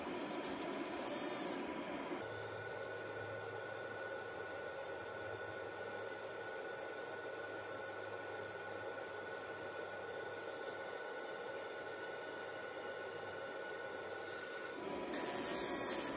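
A ComMarker B4 fiber laser engraves a blue-coated steel metal tag at low power and high speed, giving a steady, quiet hiss with a faint tonal hum that runs unbroken for about thirteen seconds before stopping.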